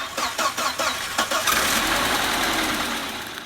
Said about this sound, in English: Just to make sure everything's working, we'll jump start a car.